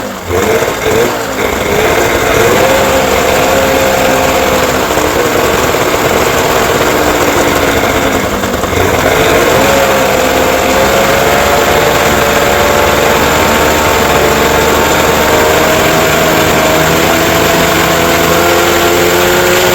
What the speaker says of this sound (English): it's running a little rough, I'm going to have to go through the ignition timing and carburetor setting